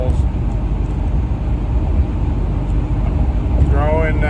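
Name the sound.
old 1975 Pontiac Trans Am car driving on highway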